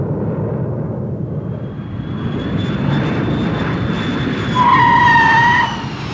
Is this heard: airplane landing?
yes